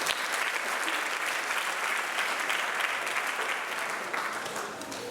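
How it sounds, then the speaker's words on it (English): An awards-night audience gives the boys track team a steady, dense round of applause, loud and sustained for several seconds before easing slightly at the end. "Please give the boys track team a round of applause."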